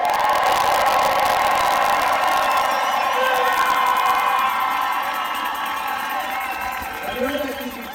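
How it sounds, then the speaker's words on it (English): Large crowd cheering and shouting at an outdoor rally in Washington D.C., a steady dense roar of many voices with whoops, holding loud throughout and easing slightly near the end. "And that's a solid crowd."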